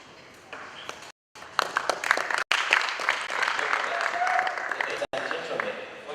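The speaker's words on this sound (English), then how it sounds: "before you clap too much" Members at a Rotary club district governor's visit clap in a meeting room, a steady round of applause with brief gaps of silence, building louder midway, with some murmuring voices underneath.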